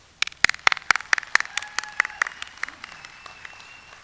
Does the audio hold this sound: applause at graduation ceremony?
yes